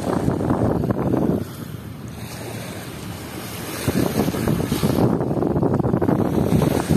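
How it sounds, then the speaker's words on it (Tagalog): Gusty tropical storm wind buffets the microphone on a beach, swelling and easing in loud bursts over a constant outdoor rush. "medyo malakas pa rin yung hangin ngayon"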